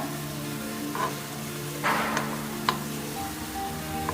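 Gulab jamun deep-frying in oil gives a steady bubbling sizzle, close and moderately loud, broken by a few brief louder bursts and clicks as the balls are moved in the pan.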